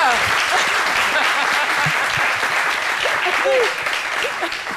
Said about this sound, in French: On applaudit très fort pour Paulus.